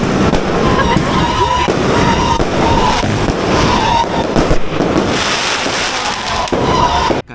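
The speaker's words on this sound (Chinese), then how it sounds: "车子在放炮了。" Firecrackers bursting nonstop outdoors, a loud dense crackling barrage with sharp pops that goes on without a break, with faint voices mixed in.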